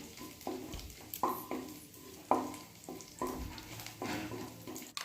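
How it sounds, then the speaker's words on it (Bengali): Dried red chilli pieces sizzle and crackle in hot oil in a pan, with a few sharper bursts of frying noise rising above a steady hiss. "এবার একটা শুকনো লঙ্কা 2 টুকরো করে তেলের মধ্যে দিয়ে"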